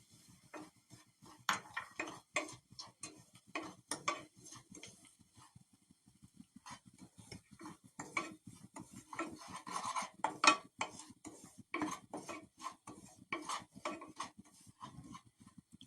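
Dry scraping and rasping of a spoon stirring semolina frying in a pan, in quick irregular strokes with brief pauses, close and moderately loud.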